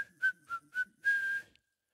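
A person whistles a tune during a church worship service: four short, bright notes in a bouncy rhythm, then one longer held note. It is close and clear, with no talking.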